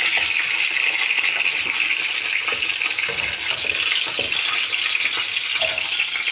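Tomatoes sautéing in a pan for ginataang tulingan: a loud, continuous hissing sizzle close by, steady and dense with faint crackles, with no talk.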